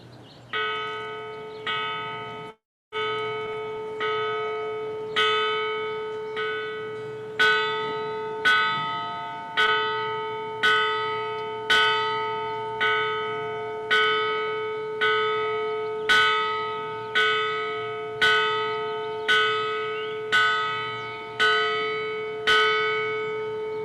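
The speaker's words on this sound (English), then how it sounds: "Now we ask for everyone's silence as the bell tolls." A commencement bell tolls 21 times at an outdoor college graduation ceremony, each strike ringing out clearly at a slow, steady pace and decaying before the next, with no talk over it.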